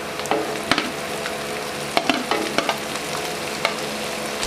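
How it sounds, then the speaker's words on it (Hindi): Green chilies fry in a pan with a loud, close, continuous sizzle, punctuated by repeated sharp scrapes and taps of stirring. "हरी मिर्चों को अच्छे तरीके से फ्राई करेंगे।"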